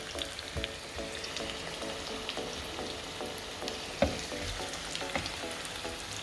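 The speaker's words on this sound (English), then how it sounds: "So we need to increase the flame so that the onions will be crispy." Sliced onions fry over a high flame for biryani birista, a steady close sizzle with soft stirring scrapes and one sharper clatter partway through, no voices.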